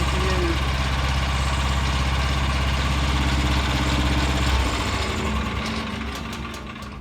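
A Vanguard 9 horsepower tractor engine runs steadily at a fast idle with a rattling, buzzing drone, then slows and fades toward the end.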